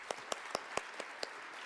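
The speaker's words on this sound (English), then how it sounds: "Let's give them another round of applause." A handful of scattered handclaps from an audience at the close of an academic sociology and ethnic studies summit, about six sharp separate claps that are faint and spaced out rather than a full ovation.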